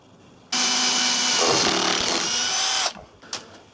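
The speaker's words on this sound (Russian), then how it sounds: "Сверло диаметром 4 мм. И по периметру этого барабана на стыке насверлю отверстий." A power drill with a 4 mm bit bores holes into the drum of an Indesit washing machine, a steady loud whine lasting a few seconds before stopping, followed by a couple of faint clicks.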